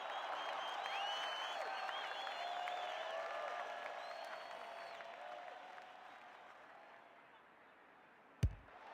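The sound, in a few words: crowd applauding and cheering at women's Australian football match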